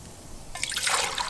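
Water poured into a cup for tea while cooking outdoors at a campfire. A soft bright trickle of liquid starts halfway through and keeps going steadily, close to the microphone.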